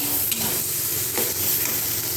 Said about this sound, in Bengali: কাঁঠাল আর আলুর যে পুরটা, ওটা দিয়ে ভালো করে একটু নেড়ে নিয়ে